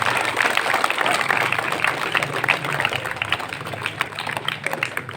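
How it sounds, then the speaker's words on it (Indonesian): Audience at a primary school event giving a round of applause, a burst of many hands clapping in a hall that trails off into scattered claps, moderately loud and fairly close, with some crowd noise mixed in. "Beri tepuk tangan untuk"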